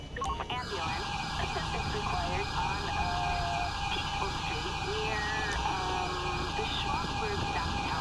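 An ambulance siren in Grand Theft Auto 5, modded with LSPDFR police patrols, wails continuously and loudly throughout, its steady electronic tone dominating the scene.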